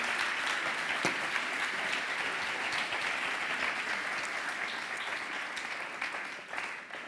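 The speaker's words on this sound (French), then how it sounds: "je vous demande de les applaudir bien fort" Audience applause for a soul band at a French corporate event, dense and steady clapping that fills the room throughout, tapering slightly at the very end, with little talk over it.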